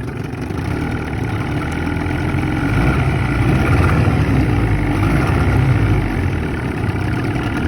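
Corroded Johnson outboard motor running on the water after fuel system repairs, a steady, close, loud droning rumble that swells slightly midway and stays constant throughout.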